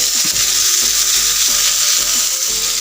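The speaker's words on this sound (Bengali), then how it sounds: "এখন এই বেগুনের মধ্যে আমি দিয়ে দেবো সামান্য একটু হলুদ হালকা ব্রাউন কালার করে ভেজে নেব" Eggplant frying with turmeric in a pan: a loud, constant hissing sizzle with soft low knocks of stirring repeating roughly every half second, no voices.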